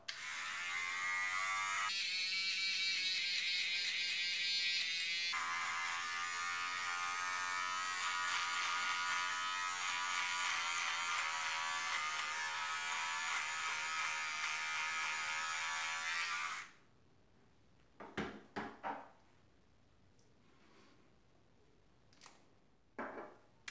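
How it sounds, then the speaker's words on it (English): Electric clipper buzzes steadily and close for about sixteen seconds while trimming beard hair below the neckline before shaving, then shuts off, leaving a few soft handling taps. "clip it, get it nice and short, and then it's ready for the razor"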